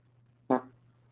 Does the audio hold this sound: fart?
yes